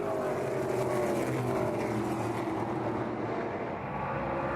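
ARCA stock cars at Lucas Oil Raceway roar together at a restart, forming a dense, steady engine drone with a throaty low rumble that fades slightly near the end.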